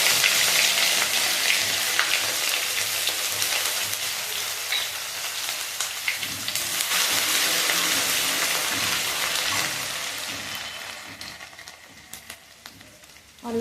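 Panch phoron with garlic and ginger paste fries in a hot wok, giving a loud, continuous crackling sizzle that eases slightly toward the end, with faint occasional clinks.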